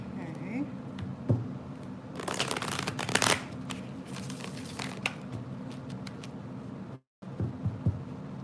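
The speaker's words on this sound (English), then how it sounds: "the cards change from person to person when they shuffle" Tarot cards are shuffled by hand nearby, with bursts of riffling, flapping and slapping, loudest in the middle and broken by a brief silence, while a voice murmurs softly underneath.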